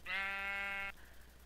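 A sheep in the Minecraft video game gives a single loud, harmonic bleat lasting just under a second, heard close and alone with no talk over it.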